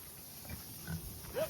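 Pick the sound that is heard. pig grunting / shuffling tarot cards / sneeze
pig grunting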